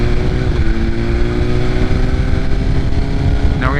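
A 2023 BMW S1000RR motorcycle pulls away at low speed after shifting into gear, its engine a steady close drone with a brief rising rev near the end.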